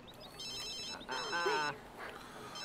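A phone rings in The Sims 3 life-simulation game, bright electronic chiming tones repeating over a couple of seconds amid faint background game sounds and party ambience.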